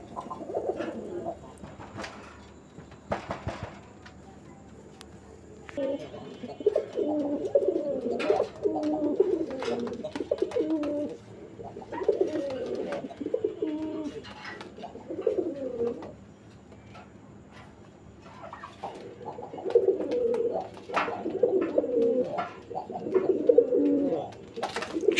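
A male pigeon from a Raj-Golla and Bara-Payra collection coos in repeated rolling phrases, up close and fairly loud, with quiet gaps and faint background noise between bursts.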